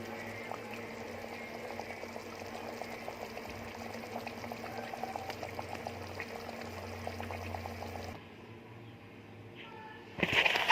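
Okra stew bubbles in a pot before going into a tagine, a steady close simmering and bubbling that stops abruptly near the end, followed by a brief clatter.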